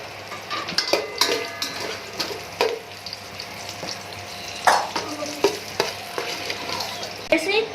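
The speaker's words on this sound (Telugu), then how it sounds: "ఇక్కడ చూసారు కదా ఫ్రై అవుతుంది" A mushroom and paneer mixture fries in a pan, a soft continuous sizzle broken by repeated scraping stirs and clinks of a spoon against the metal, close and clear.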